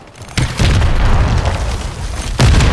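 Frag grenade blasts in Call of Duty: Modern Warfare 3 multiplayer, two heavy booming explosions with a sustained rumbling roar between them, loud and close.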